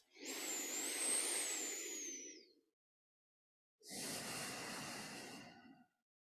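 Two slow, deep breaths during guided meditation, each a long airy exhale-like rush lasting a couple of seconds, separated by a short silence, close and fairly soft with no talking.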